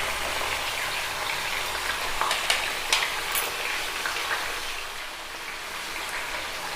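Chicken seasoned with turmeric and salt fries in a pan over low flame. A steady sizzle and crackle runs throughout, with a few brief stirring clatters and no voices.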